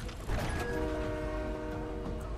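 Train rumbling steadily in Fortnite Chapter 5, a dense continuous mechanical drone with a sustained horn-like tone running through it, loud and close with no voices.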